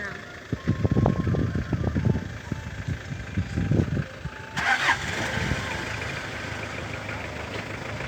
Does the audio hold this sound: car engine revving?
yes